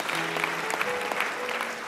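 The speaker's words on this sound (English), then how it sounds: "Somebody give God a clap." Church congregation clapping during a sermon, a continuous dense wash of applause with a few voices calling out beneath it.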